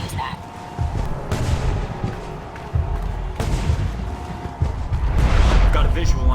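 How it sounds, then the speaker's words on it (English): Fireworks over Taipei in the Alpha Protocol video game, a series of booming bursts and crackles at irregular intervals that build louder toward the end, heard under game voices and background noise. "The noise from those fireworks should cover the sound of gunfire."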